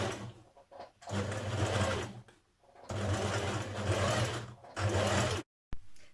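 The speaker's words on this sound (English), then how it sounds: "So I'm machine stitching mine here" A sewing machine stitches the facing on a New Look 6871 blouse, running in two steady bursts of close, rapid mechanical whirring with short pauses between them.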